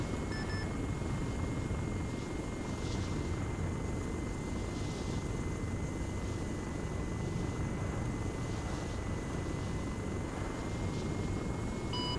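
A steady, loud rotor and turbine roar from a Mi-28 Havoc attack helicopter lifting off in a military simulation game, a constant dense drone with faint rhythmic blade pulsing throughout.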